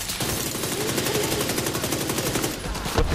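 Rapid automatic gunfire from a weapon in The Division 2, a steady fast burst of shots running continuously and loud, close to the listener, with no talking over it.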